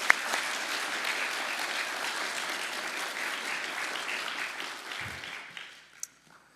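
An audience at an Eagle Scout ceremony bursts into applause, a dense, sustained clapping that holds for several seconds before tapering off quickly near the end.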